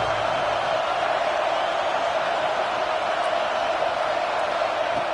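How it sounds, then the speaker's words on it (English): A football stadium crowd roars steadily in a sustained, dense wash of cheering and noise, urging the defense on near the red zone, loud and unbroken throughout. "And here comes the noise. This crowd is trying to inspire this defense to make a big red zone stop."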